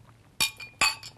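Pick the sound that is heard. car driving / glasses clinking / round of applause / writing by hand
glasses clinking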